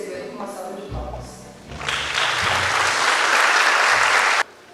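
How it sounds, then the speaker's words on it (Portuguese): Applause from an audience at a police event swells up after a few seconds of speech and continues steadily for several seconds before stopping abruptly. "Vamos recebê-lo com uma salva de palmas."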